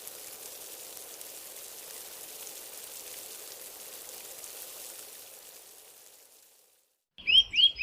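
Steady rain hisses in a cartoon scene, a dense even wash that thins and fades out, followed by a brief gap and a couple of short bright chirps at the end.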